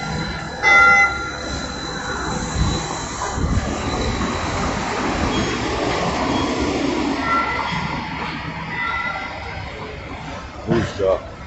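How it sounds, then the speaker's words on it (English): A train rumbles past nearby on Woodward downtown with a steady mechanical clatter, brief squeals of wheels, and voices talking over the noise. "We got the train down here on Woodward."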